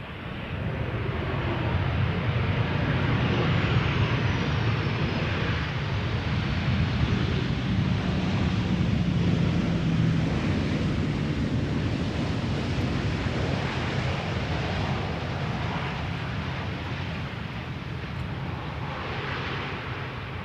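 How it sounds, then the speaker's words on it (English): A KLM Boeing 737-700 arriving at Schiphol's Polderbaan runway on a warm day, heard as a steady, broad engine roar mixed with wind noise that holds for the whole stretch with no talk. "next up, KLM 737-700 arriving from Milan."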